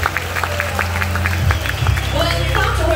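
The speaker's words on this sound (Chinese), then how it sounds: "掌声欢迎女方主婚人" Wedding banquet guests applauding as the bride's parents enter, continuous clapping from a crowd with a loud voice over a microphone and background music.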